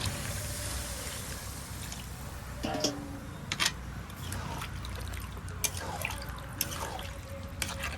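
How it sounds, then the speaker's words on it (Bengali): Water trickles and drips into a cooking pot of goat meat curry being prepared with chicken skin in a home kitchen, a soft steady pour with scattered drips and clinks over faint background hiss. "এবার জল দিয়ে দেবো"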